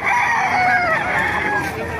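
Rooster crowing at the Bocaue poultry market, a drawn-out tonal call standing out over a busy crowd murmur and other fowl, with people talking nearby.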